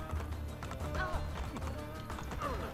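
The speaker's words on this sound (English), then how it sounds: "Volpe, my horse doesn't go any faster than this." Galloping horse hooves from the Assassin's Creed: Brotherhood video game, a steady rhythmic clatter under game music and ambience, with a few brief whinny-like tones and no clear speech.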